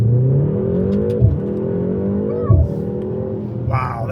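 A 2025 BMW M235xi Gran Coupe with a 7-speed dual-clutch transmission accelerates hard from a launch. The engine drones steadily with brief dips at quick upshifts, heard from inside the cabin, and a voice comes in briefly at the end.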